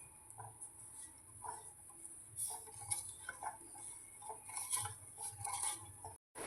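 Watermelon juice and sugar being stirred in a pan, with soft, repeated scraping and clinking of a spoon against the metal at a steady stirring rhythm, close and fairly quiet.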